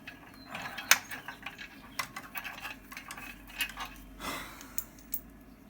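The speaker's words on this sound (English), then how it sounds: "Ratcheting wrenches in pocket" A ratcheting wrench clicks in quick, quiet bursts of sharp metallic ratchet ticks while an engine is being pulled, with short pauses between strokes.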